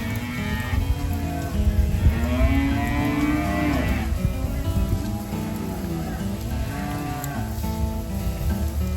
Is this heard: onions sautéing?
no